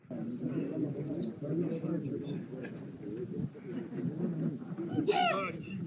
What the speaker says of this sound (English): These little birds are known as the alpine chat.